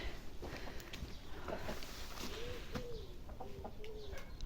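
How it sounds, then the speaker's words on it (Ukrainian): Soft, low cooing calls from a dove repeat a few times against a steady outdoor background hiss on a clear, windless spring day, with a few other faint bird sounds around. "Голубка десь виспівує."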